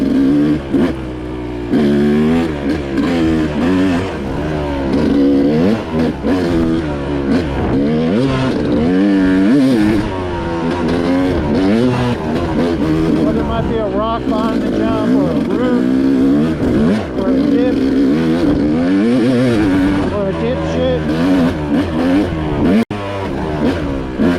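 An off-road motorcycle ridden on a single-track forest OHV trail, its engine loud and close, revving and climbing and falling in pitch continuously as the throttle is worked, with a voice talking over it.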